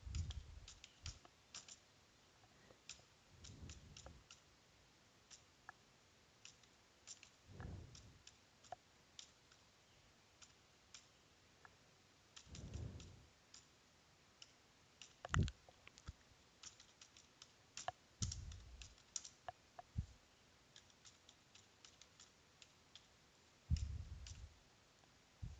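Soft clicking on a computer keyboard while an SQL query is typed, faint and intermittent over a low background with occasional muffled thumps.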